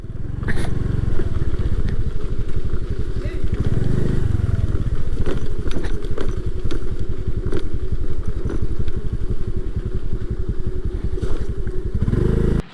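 A motorbike is ridden slowly into a bike parking area on the road to Kaigal waterfalls, its engine putting out a steady close idling chug with brief revs and some clatter throughout.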